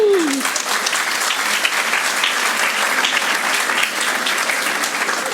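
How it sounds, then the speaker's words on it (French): Audience at a school fête bursting into sustained, dense applause, loud and close throughout, with a short falling voice note right at the start. "on peut les applaudir encore une fois"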